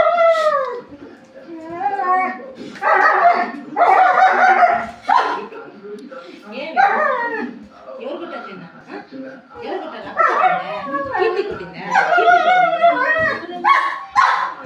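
A good-natured farm dog that lives near the chickens barks, yips, howls and whimpers in close, loud, continuous bursts across the whole stretch, with no talk over it.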